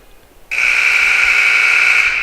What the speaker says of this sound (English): The infamous buzzer that I can't stand